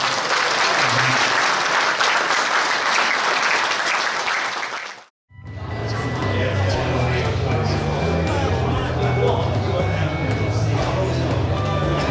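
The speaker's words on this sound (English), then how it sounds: "Give him a round of applause, what a magician." Loud crowd applause for a magician at a live show at the National Motorcycle Museum, cutting out abruptly into brief silence, then resuming with clapping over a low rumble and murmuring.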